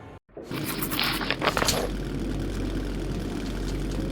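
A rail car engine idles in Metro 2033 with a steady, deep low drone, starting after a brief silence and a scraping rattle, then holding a constant close rumble.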